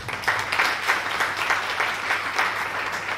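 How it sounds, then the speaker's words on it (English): Sustained audience applause fills a workshop hall in Nigeria, with dense, steady clapping from many hands at an even level throughout, and no voices heard over it. "can we round of applause for that one?"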